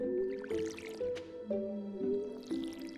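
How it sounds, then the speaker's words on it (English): Crops being watered in the video game Stardew Valley, with soft splashy watering-can effects dripping in repeatedly beneath steady, melodic background game music. "Water them while we're here."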